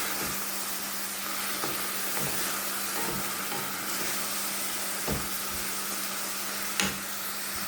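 Fenugreek greens stir-fry in a pan in a village kitchen, with a continuous soft sizzle and occasional scraping stirs of the spatula.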